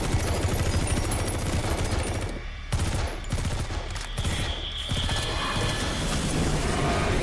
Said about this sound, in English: The guns sound more violent in this game than other metal gears.